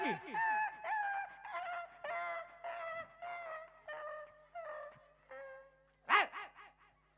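A man in a Gujarati comedy skit mimics a barking dog, giving about ten voiced, yelping barks in quick succession. They are close and fairly loud, and a sharper, louder yelp comes near the end.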